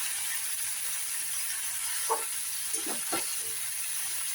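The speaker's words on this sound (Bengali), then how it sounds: "এইগুলো চাপা দিয়ে এইগুলো ভাজতে থাকবো" Food fries in a covered pan, heard as a steady, even hiss, with a few soft, brief stirring knocks midway.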